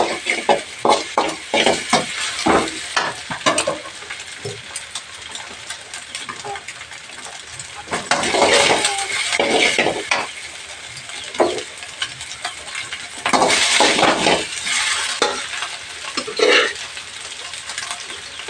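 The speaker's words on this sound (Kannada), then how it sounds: "ಇವಾಗ ಮೊಟ್ಟೆನ ಚೆನ್ನಾಗಿ ಫ್ರೈ ಮಾಡಬೇಕು." Eggs being stirred and fried in a pan while making drumstick-leaf sambar, with repeated scraping and clinking strokes over a steady close sizzle and no voices.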